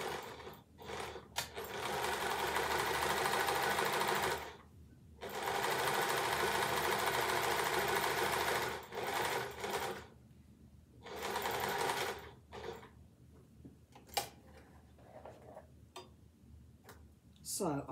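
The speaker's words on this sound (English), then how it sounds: "And I am back stitching on both ends." A sewing machine back stitches a bunting seam in long steady whirring runs broken by short pauses and ticking stops, with a voice speaking between the bursts.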